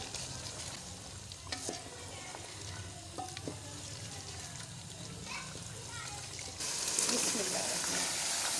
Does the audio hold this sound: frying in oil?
yes